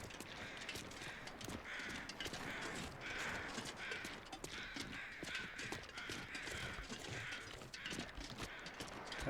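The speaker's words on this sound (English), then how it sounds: "A lot of crows, there's something dead over there" A flock of crows caws repeatedly in the survival game The Long Dark, the harsh calls coming in steady overlapping bursts over a constant windy outdoor hiss.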